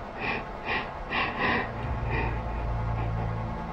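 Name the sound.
fearful heavy breathing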